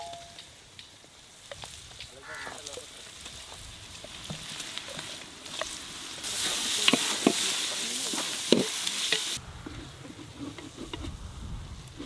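Chicken pieces frying in a pot over an outdoor jungle fire, stirred with ginger garlic paste, a steady sizzle with scraping stirs that swells loudly mid-way, then settles back to a softer crackle.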